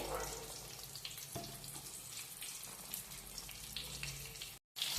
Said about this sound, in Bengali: এবার এই একই তেলে আমি দিয়ে দিয়েছি পাঁচ টুকরো আলু